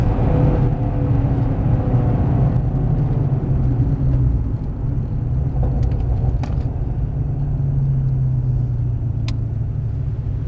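A Ford Mustang Shelby's engine rumbles loud and steady at a drift course, a deep continuous drone with a slight swell of throttle and no voices.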